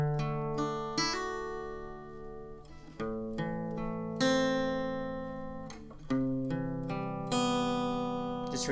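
Acoustic guitar plays the intro to a song, strummed chords with open bass strings that ring out, each strum decaying before the next, close and clear with no talking.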